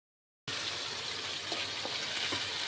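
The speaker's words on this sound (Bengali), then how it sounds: "এখন একটুখানি আলুগুলো ভাজা ভাজা করবো।" After a brief silence, potatoes frying with whole spices and ginger paste in a wok set up a continuous close hiss of hot oil, with faint taps of stirring and no speech.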